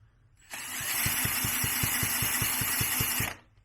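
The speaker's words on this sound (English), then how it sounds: "Going to do it with the electric drill here on slow mode" An electric drill on slow speed cranks a 1978 Yamaha DT175E engine that has no compression, giving a steady whirring drone with a rapid, even pulsing for about three seconds before stopping.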